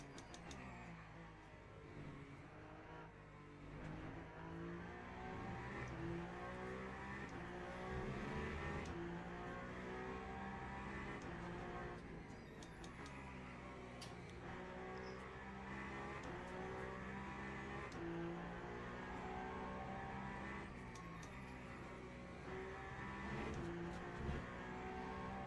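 Race car engine in the Le Mans Ultimate racing game during a six-hour endurance race, a loud sustained engine roar with rising and falling revs through gear changes, continuous across the whole stretch without talk.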